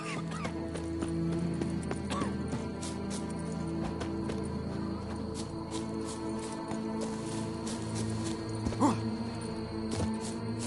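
A horse galloping in The Witcher 3, steady rhythmic hoofbeats throughout over a constant ambient game background, with a brief whinny near the end.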